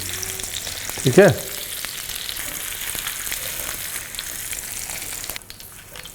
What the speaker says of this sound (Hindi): पनीर को तोड़े बगैर फ्राई करना है जी